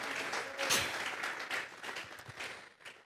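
Congregation in a church clapping as an offering of praise, a moderate burst of applause that swells early and then thins and fades over about three seconds, with no voice over it.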